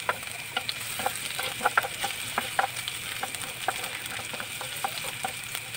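Bay leaves dropped into a hot pan with ginger already cooking, sizzling and crackling steadily with scattered sharp pops throughout, close and alone.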